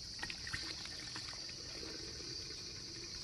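Fuel pours from a metal can into a Husqvarna 450 Rancher chainsaw, a steady close trickle and gurgle lasting a few seconds with small splashy ticks near the start.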